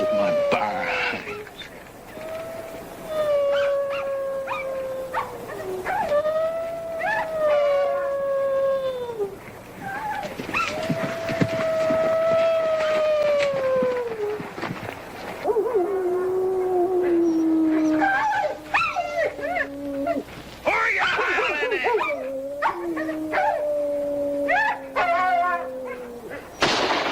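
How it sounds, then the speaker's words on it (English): Wolves howling in a western film, several long wavering howls rising and falling one after another, fairly close and overlapping, with whimpering yelps between them. "Stop your howling."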